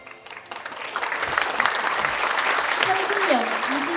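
An audience at a university's 107th founding anniversary ceremony breaks into applause, scattered claps building within a second into sustained, moderately loud clapping, with a voice briefly audible near the end.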